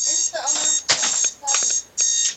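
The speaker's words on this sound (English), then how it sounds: "somebody's alarm's going off" An alarm clock goes off at midnight with loud, repeated electronic beeping bursts in a steady on-off rhythm, close and piercing.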